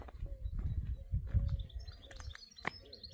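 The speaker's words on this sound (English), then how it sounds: "Hear the birds?" Birds chirp and tweet in short bursts in a spring garden in Israel, through steady background rumble, with a few sharp high calls standing out near the end.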